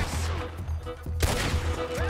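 A Lancaster repeater fires in Red Dead Redemption 2, with a few sharp gunshots and one loud, close crack standing out over a steady game ambience.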